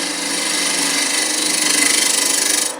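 A conventional hand scraper works a piece of scrap wood on a lathe being turned into a small Christmas tree ornament. A continuous loud rasping hiss carries over the steady hum of the spinning machine.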